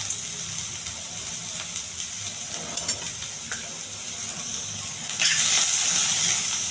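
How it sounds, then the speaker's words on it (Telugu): Cumin and chana dal fry in a pan with a constant close sizzle and hiss that swells louder toward the end. "ఇది బాగా వేయించాలి."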